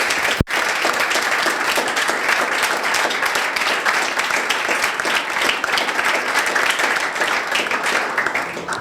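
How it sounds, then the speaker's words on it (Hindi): Loud, sustained audience applause at a campus event, dense steady clapping filling the whole stretch after a brief sharp knock at the start, with no talking over it. "जोरदार तालियां"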